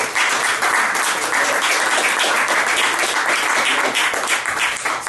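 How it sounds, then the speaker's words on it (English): Loud, dense audience applause welcoming a guest at a jazz improvisation talk, continuous and even throughout with no voices on top. "So please give him a welcome applause."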